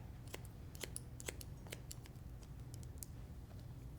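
Scissors point cutting a client's thick hair, a rapid irregular patter of faint, close metallic snips over a low steady background hum, no voices.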